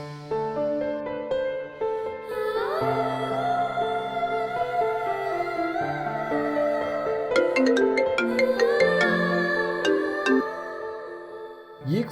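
A mobile phone ringtone plays a melodic tune, steady and clear for about twelve seconds, with no voices over it.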